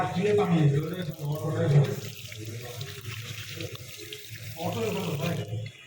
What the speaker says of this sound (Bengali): এখানে সবাই বড় ভাইরা ওয়াশরুমে হাত ধুচ্ছে